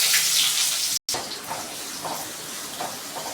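Onions go into hot oil while fenugreek kulambu is cooked, giving a loud, continuous hiss and sizzle with a brief dropout near the start.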